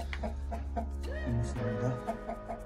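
A broody, bad-tempered turkey hen sitting on nine eggs in a backyard coop clucks and churrs close by in a run of short, repeated calls over a steady low hum.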